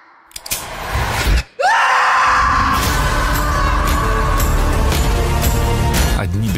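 A person in a Russian film trailer screams loudly and at length, a sustained harsh cry that rises after a brief silence and carries over a dense, dramatic background of music and effects.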